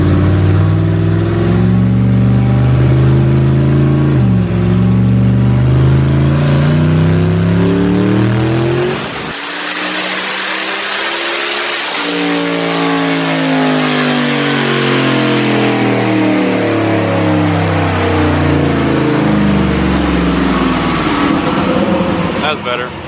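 Kraken car engine on methanol at 30 psi boost, loud and close on a dyno, revving up in a long rising pull with a sharp whine at the peak, then dropping and climbing again.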